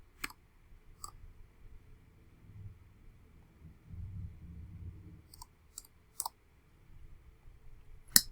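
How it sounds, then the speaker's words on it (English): Sparse, quiet clicks sound from a computer keyboard being typed on, scattered irregularly over a low, faint background rumble, with no speech. "So I'm going to continue typing."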